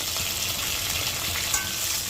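Sliced onions and freshly added chopped tomato fry in a pan, giving a loud, continuous close sizzle with a soft crackling texture and a single brief spit near the middle.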